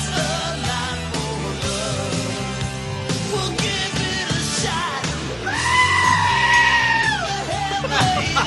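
A screaming goat sound is edited into a song. The music plays loudly throughout, and a drawn-out, piercing goat scream rises over it for a couple of seconds near the end.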